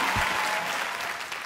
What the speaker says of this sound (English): Please give a warm round of applause for Geoff Trenchard.